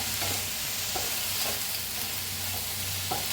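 Pieces of chhole bhature dough roasting in a hot pan with a steady low sizzle, broken by a few soft scraping strokes of a spatula stirring them.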